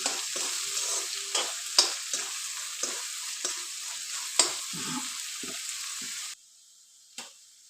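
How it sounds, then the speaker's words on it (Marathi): Spinach, green chili, garlic and ginger paste sautéing in a pan, a steady close sizzle with repeated stirring scrapes, cutting off abruptly near the end before one last faint scrape. "पालक हिरवी मिरची लसूण अद्रक यांचं केलेलं वाटण टाकून घेऊया वाटण व्यवस्थित परतून घेऊन"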